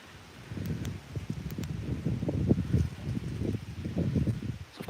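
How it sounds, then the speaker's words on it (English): Gusty wind buffets an outdoor microphone with low rumbling bursts that rise and fall irregularly, loud and close. "I don't know if you can hear me, it's a bit windy."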